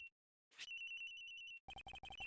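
Cell phone ringing from inside a locker in the video game Ace Attorney Investigations: a bright electronic ringtone with repeated rapid chirping tones, loud and close after a brief swoosh, with no talking.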